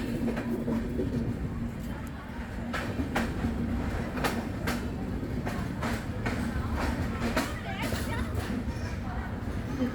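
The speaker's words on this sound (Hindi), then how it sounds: "तो अभी हमारी ट्रेन कगारिया पहुंची है 5 मिनट बिफोर टाइम।" A New Jalpaiguri–New Delhi Express hauled by a WAP7 electric locomotive, heard from on board as a continuous rumble with repeated wheel clicks and rattles, while people talk in the background.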